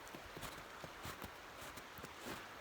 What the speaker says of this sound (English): You can hear my crunching footsteps again maybe.